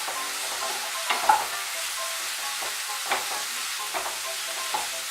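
Garlic paste is stirred into a curry of beans in a pan, with a low background sizzle broken by several scraping and clinking strokes of the spoon at uneven intervals.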